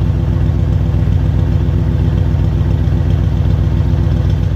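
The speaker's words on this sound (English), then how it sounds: "Oh, let me go listen to the exhaust." A 1979 International Harvester Scout Traveler idles, heard at the exhaust, a steady rumble close by, low and even with a faint clattery pulse, no talking over it.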